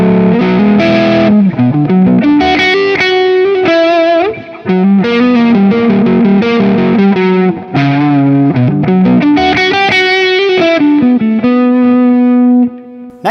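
Sterling Majesty electric guitar played through distortion and effects, a loud, continuous prog-rock passage of sustained chords and melodic runs with brief pauses, no voices.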